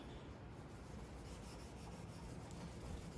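An oiled rag rubs across a guitar fretboard, giving a soft, continuous brushing and rubbing noise. It is faint and close, with no talk.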